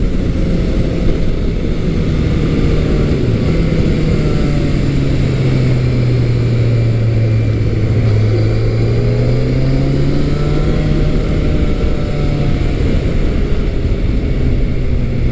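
A stock-exhaust Yamaha FZ1 motorcycle engine drones loud and close throughout, its pitch dipping and rising as the bike accelerates, with wind rush underneath and no voices.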